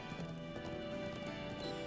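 Horse hooves clopping steadily while riding in Trails of Cold Steel 4, a quick rhythmic gait under a continuous game soundscape, with no voices.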